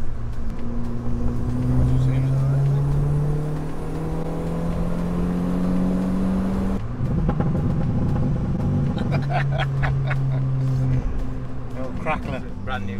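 A turbocharged 1.3-litre Ford Ka drives along on new tyres, its engine note rising through gears with a steady road rumble from inside the car, while occupants talk over it.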